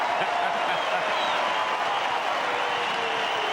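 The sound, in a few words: crowd cheering a goal at AFL match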